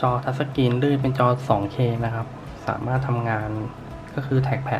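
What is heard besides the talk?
No distinct noise like a dog, phone or traffic.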